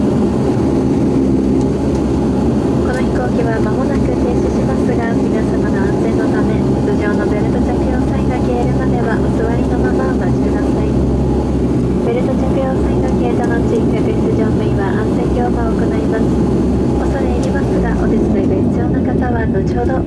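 Inside a domestic airliner cabin after landing at Wakkanai, a steady loud engine and airframe roar drones under continuous cabin announcement speech as the plane taxis toward its stop, easing slightly at the end.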